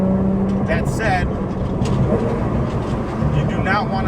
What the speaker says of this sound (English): Dundon exhaust system with the titanium muffler